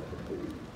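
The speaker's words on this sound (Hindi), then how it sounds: "ये हैं कबूतर उड़ने वाले" Domestic flying pigeons in a loft give a brief, close, low cooing murmur, with no one speaking.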